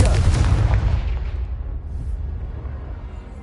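A Confringo spell explosion in Hogwarts Legacy bursts loudly with a deep boom, then rumbles and fades over a few seconds.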